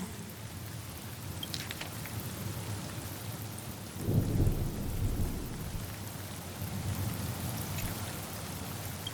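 Steady rain pours in the Honkai Star Rail video game, with a low rumble of thunder swelling midway through the continuous downpour.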